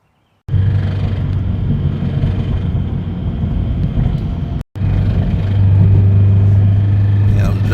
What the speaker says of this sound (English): The car is very loud.